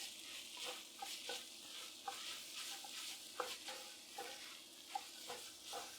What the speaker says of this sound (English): put it here in the middle and start to slowly incorporate it with the turkey and the beef